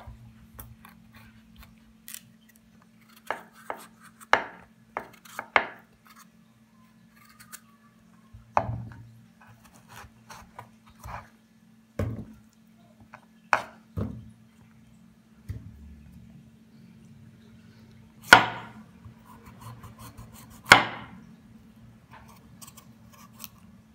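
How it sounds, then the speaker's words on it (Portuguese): A knife slices a pumpkin into rounds for coconut pumpkin sweet, sparse crisp cuts and taps on a board, isolated and close against near silence. "para descascar, eu acho mais fácil cortar assim em rodelas"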